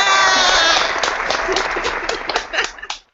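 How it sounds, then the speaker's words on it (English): A small group claps and cheers loudly, the applause rising quickly then thinning into scattered claps before trailing off. "Everybody loves applause."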